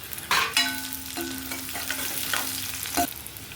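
Garlic cloves and green chillies sauté over a low flame, with a steady soft sizzle, scraping stirs and clinks of a spoon against the pan, fairly close, no voices.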